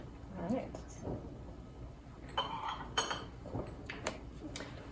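A spoon stirring caramel macchiato creamer into coffee in a cup, several light clinks and scrapes in irregular bursts, close but fairly quiet, with a person talking at times.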